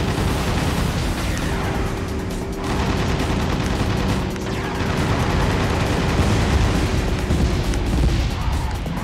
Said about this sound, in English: chasing people with machine guns would have been the optimal strat all along